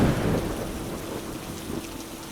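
Steady rain with a thunderstorm, a dense broadband hiss of rainfall on surfaces with a low rumble of thunder swelling at the start, continuous and fairly close.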